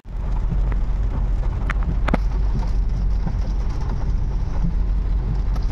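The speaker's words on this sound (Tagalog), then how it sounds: "malakas ang ulan sa Pangasinan" Steady, dense heavy rainfall in Pangasinan, Philippines, late afternoon, fills the whole stretch with a constant broadband hiss and low rumble, a few brief sharper spatters standing out, no voices.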